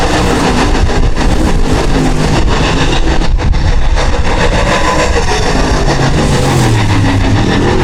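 Late model race cars roar through a heat race at a Midwest oval, a loud continuous engine drone with rising and falling revs as the pack passes, steady and close throughout.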